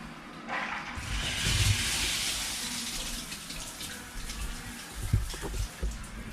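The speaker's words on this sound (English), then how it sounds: "I'll try and show you the pressure here while holding it" A hand-held shower sprays water in a hotel bathroom, a steady broadband hiss that swells when the flow starts and wavers as the head is moved, with a few knocks.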